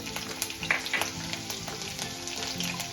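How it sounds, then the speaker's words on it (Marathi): Slit green chillies sizzle in a little hot oil for fenugreek bhaji, a steady crackling fry with small pops and faint clinks throughout. "आता आपण तेल गरम झालंय, हिरव्या मिरच्या लांबट चिरलेल्या घेतल्यात बारीक करून 2"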